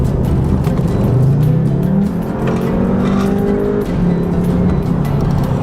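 A 2018 Volkswagen Jetta GLI engine roars loud and close, pitch climbing under heavy acceleration with a brief dip mid-way as the DSG transmission shifts, then pulling hard again.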